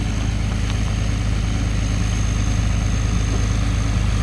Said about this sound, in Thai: เคลื่อนใหญ่นี่เครื่องสูบน้ำใหญ่